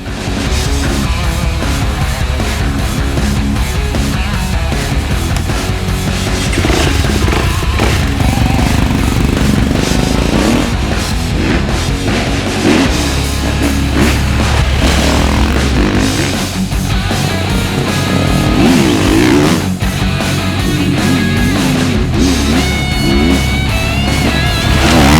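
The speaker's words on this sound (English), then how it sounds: "So I love to ride this bike, my Enduro bike." A GasGas enduro motorcycle ridden hard off-road, its engine revving up and down with rapid throttle changes and gear shifts, loud and close throughout with no talking.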